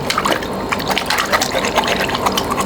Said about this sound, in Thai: เสร็จแล้วก็เราจะมาล้างให้สะอาดนะครับ